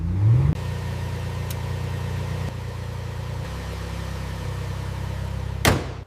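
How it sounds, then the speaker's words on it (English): A restored, formerly abandoned Ferrari engine fires up with a brief rising whir, then settles into a steady, even idle hum that shifts slightly in pitch, ending with a short sharp burst near the end. "The engine starts perfectly, every system is working smoothly, and this Ferrari is finally alive again."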